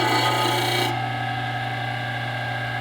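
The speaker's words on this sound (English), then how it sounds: "I'll flatten up this side on the belt sander" A belt sander flattens the side of a part for a Harley motorcycle, a loud abrasive rasp for just under a second, then a steady motor hum running on alone with no contact.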